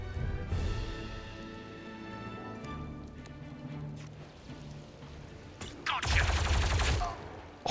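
Blaster fire in Star Wars Zero Company comes in crackling volleys over a rumbling battle backdrop, with a loud, dense burst near the end and faint talk at times.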